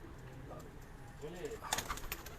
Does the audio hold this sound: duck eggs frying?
no